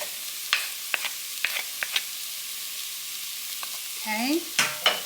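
Flour and tomato paste cook over medium heat in a pot for lobster bisque, giving a faint steady sizzle, with a few sharp spoon taps and scrapes as the mixture is stirred.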